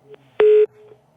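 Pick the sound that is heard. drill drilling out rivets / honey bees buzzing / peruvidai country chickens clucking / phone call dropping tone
phone call dropping tone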